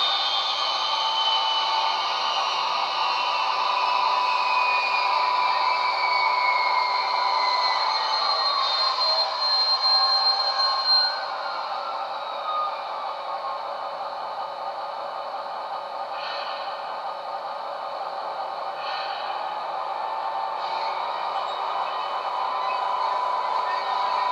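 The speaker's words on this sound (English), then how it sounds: "You hear the turbine shut down in a minute." A turbine runs down on a kerosene-powered installation, its steady broad whine holding for a while before several tones glide downward and the rushing drone gradually eases, with a few faint knocks near the end.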